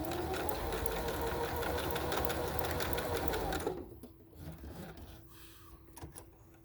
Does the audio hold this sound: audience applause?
no